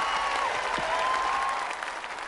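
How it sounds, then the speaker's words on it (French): Crowd applause at a parade and speech in the video game Final Fantasy VII Remake, a dense, sustained wash of clapping that tapers slightly near the end. "On t'applaudit."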